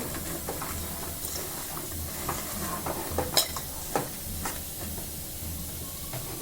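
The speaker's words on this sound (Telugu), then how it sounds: "పసుపు ఉప్పు మెల్లిగా అంటే ఈ మొక్కలు విరగకుండా మెల్లిగా ఒకసారి కలుపుకోండి" Bitter gourd pieces with turmeric and salt are gently stirred in a pan, giving soft scraping and light clinks over a steady hiss, quiet and close, with no speech.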